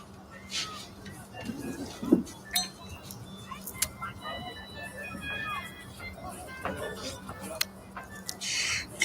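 Glasses clink together at a table in a small-island setting, a few light, bright taps that stand out faintly under people talking.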